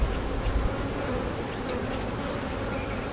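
Honeybees swarm around an open beehive, a dense, continuous buzzing drone that stays steady and moderately loud, with a few sharper passes of single bees near the listener.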